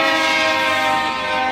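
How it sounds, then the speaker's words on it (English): A brightly painted chicken bus in Guatemala lets out a loud, sustained, harmonic horn blast that holds steady for over a second close by. "That brightly coloured honking bus was a chicken bus."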